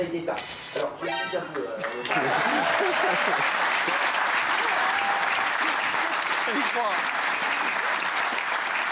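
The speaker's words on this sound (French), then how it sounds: "ne l'applaudissez pas trop" A French television studio audience breaks into loud, sustained applause after a couple of seconds of talk and laughter, the clapping then holding dense and steady until the end, with a voice faintly audible beneath it.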